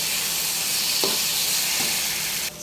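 Bitter gourd frying in a hot pan gives a constant loud sizzle, with a couple of brief stirring scrapes near the middle and no talking.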